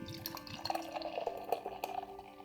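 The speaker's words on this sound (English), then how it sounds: "No, I'm gonna pour the whole thing." Cherry sour ale is poured from a can into a glass, a close gurgling, splashing trickle with small drips and fizzing over a couple of seconds.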